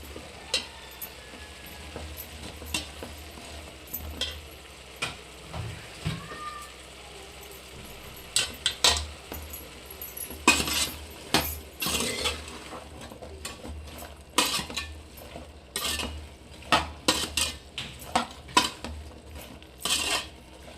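Vegetables being stirred with a metal spoon in a pot after turmeric powder and salt go in, with steady scraping and clinking of utensil against the pot and a faint sizzle, no talking.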